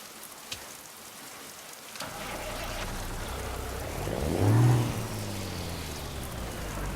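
Rain patters steadily in a truck driving video game, a dense hiss of drops that swells as a vehicle engine hum rises and fades underneath.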